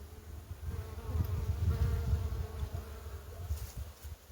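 Bees buzz in a dense, wavering hum close by, rising and falling as they fly around the hive in warm weather.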